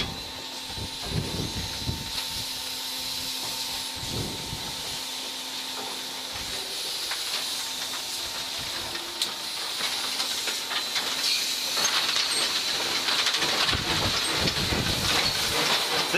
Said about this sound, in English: This is a D3 class locomotive we're on at the moment.